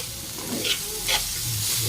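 Onion, grated carrot and cucumber are stirred and fried together in a pan, giving a steady close sizzle broken by a couple of brief scraping stirs, with no talking.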